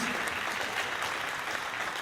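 Audience applause after a university high school symphony orchestra's spring concert: steady, dense clapping from a full hall, even and sustained throughout with no voices above it.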